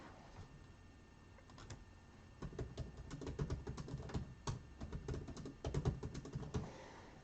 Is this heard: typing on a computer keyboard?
yes